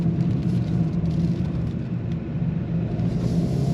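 A 2025 Volkswagen GTI SE Mk 8.5 sport compact car accelerates on throttle in second gear, its engine giving a steady, loud, low rumble heard from inside the cabin without any talk.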